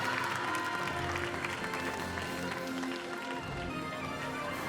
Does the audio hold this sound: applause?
yes